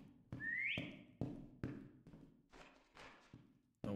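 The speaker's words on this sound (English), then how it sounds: "Whistling, huh?" Someone whistles in the spooky ship horror game Lazaret: a faint, brief rising whistle, followed by a series of soft thumps and taps, all quiet and distant.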